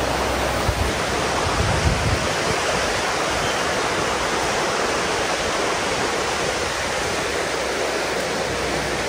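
A river at Palisades State Park rushes in a steady, loud broadband wash, continuous and close, with no voices over it.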